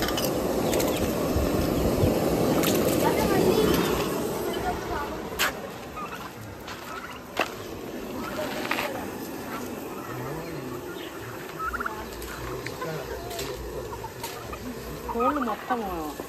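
Chickens cluck and call around a rural farmland yard, a busy, moderately close flock whose chatter is loudest early on, with occasional wing flaps and a person talking now and then.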